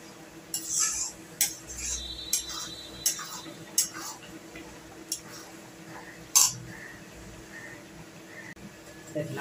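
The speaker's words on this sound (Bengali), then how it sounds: "এবার গুড়টা দিয়ে আমি আস্তে আস্তে এবার নাড়তে থাকবো গুড়টা গলা পর্যন্ত।" A spoon scrapes and clinks against a pan while jaggery is stirred into plum and tomato chutney until it melts: sparse, irregular metallic taps over quiet background noise.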